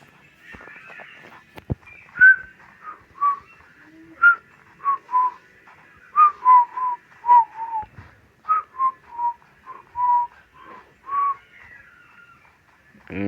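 Short whistled notes repeat in an irregular sequence, clear and fairly close, over a quiet background.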